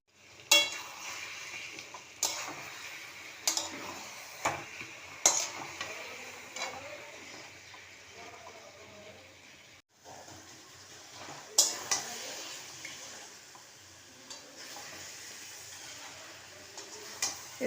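Mutton pieces fry in oil with ginger and garlic, a soft continuous sizzle broken by repeated sharp scrapes and clinks of a utensil stirring in the pan, close up with no talking.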